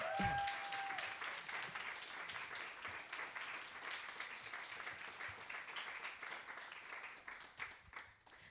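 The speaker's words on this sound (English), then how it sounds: "Please give a big, big, big applause to Suma Abdo" Sustained crowd applause from an audience at a queer Pride health talk event, a dense steady wash of clapping lasting the whole stretch and slowly tapering toward the end, with no voices over it.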